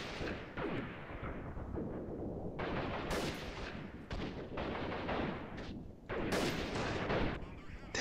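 Heavy combat din in the guerrilla warfare game Freeman Guerrilla Warfare, with a big grenade blast among dense rolling gunfire and explosive bursts, loud and continuous over eight seconds.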